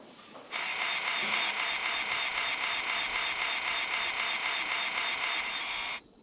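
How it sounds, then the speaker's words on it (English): A circular saw in the Tonka Workshop video game cuts wood support pieces: one steady, loud, hissing buzz that starts abruptly, holds for about five and a half seconds, then cuts off, with nothing else heard. "Use your circular saw to cut support pieces."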